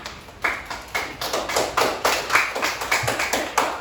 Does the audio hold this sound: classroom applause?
yes